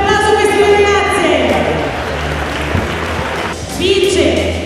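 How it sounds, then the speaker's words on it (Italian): An audience at a women's wrestling match applauds after the bout, a broad wash of clapping under a loud voice speaking over it, rising again toward the end. "Un applauso a queste due ragazze."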